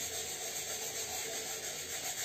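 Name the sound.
light hand sanding of a decoupage box with soft sandpaper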